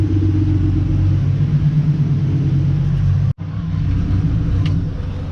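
A turbocharged Honda V6 idles steadily after a clutch repair, a loud, close, continuous low rumble with one abrupt momentary dropout partway through before the engine note resumes.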